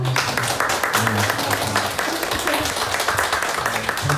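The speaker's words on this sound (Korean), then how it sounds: "그래서 환영의 박수 한번 하겠습니다." Korean church congregation giving welcoming applause during a Sunday morning service, a dense, continuous patter of clapping hands with voices and talk mixed in throughout.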